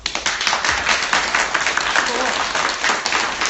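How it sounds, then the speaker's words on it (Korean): An audience claps enthusiastically, with steady applause filling the whole stretch and a few voices mixed in underneath. "우리 세월호 어머님들을 위해 지금 박수 한번."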